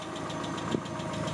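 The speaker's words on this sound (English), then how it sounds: "It's probably the exhaust leak." An idling car engine with an exhaust leak makes a rapid, regular ticking that rides over a steady low rumble, close by, with a single brief louder knock partway through.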